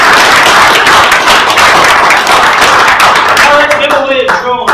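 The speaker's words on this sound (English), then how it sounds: "I want to give a great big round of applause for Ami and Arnon." Conference audience at a tech talk on GPU databases giving a round of applause for two presenters, loud crowded clapping that thins toward the end as a voice and music come in.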